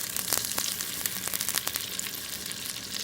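A tablespoon of butter melting in a pot for a sauce, sizzling steadily up close with a dense crackle and popping spatter throughout, no speech.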